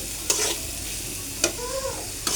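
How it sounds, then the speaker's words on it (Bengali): Onions frying in a pan with salt added, a steady soft sizzle with a few sharp clinks of a spatula stirring, close and alone without talk. "এখন আমি পেঁয়াজগুলো ভেজে নিচ্ছি।"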